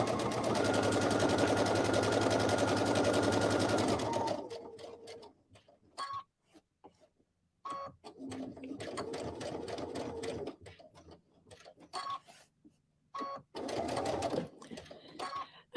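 A home sewing machine stitches in a smooth, quiet whir, first a long steady run, then several shorter bursts separated by pauses with small clicks and ticks.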